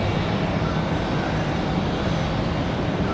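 An Endeavor jet airliner, Endeavor 5273 bound for Newark, departs runway 23 right at Raleigh-Durham International on a windy day. A constant loud engine roar holds steady, with a low rumble underneath.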